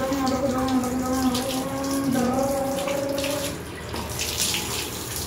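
Tap water pours steadily while a dog is bathed at home, a loud continuous rush with a whistling tone, easing slightly near the end.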